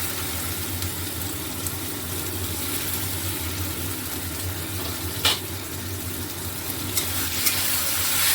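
Tomato paste sizzling in a hot pan while cooking a chicken egg tadka: a steady, close frying hiss with a few small pops and clicks.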